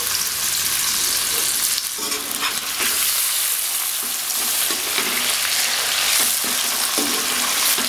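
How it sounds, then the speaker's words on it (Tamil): Prawns, marinated for half an hour, fry in hot oil with a steady, dense sizzle throughout, punctuated by brief crackles and occasional stirring scrapes; no voices. "ஃபஸ்ட்டு வந்து நம்ம ப்ரானை வந்து பொரிக்க போகிறோம்."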